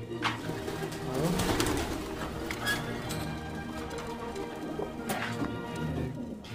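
Pigeons and their weak young squabs coo in a loft, a soft low cooing with scattered bird calls and rustling through the whole stretch, fairly close and without talk.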